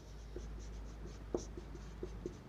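Faint chalk or marker strokes writing on a board in a physics classroom, a handful of light taps and short scratches spread across a quiet, steady room hum.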